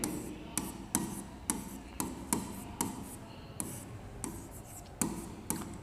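Chalk or marker strikes on a board during a psychology class, a series of sharp, evenly spaced taps about twice per second, close and crisp, with no talking over them.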